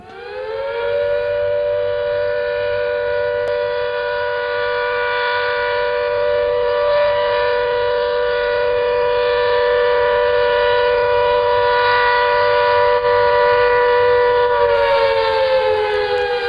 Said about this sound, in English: we wait for the siren to end, calling volunteers to some emergency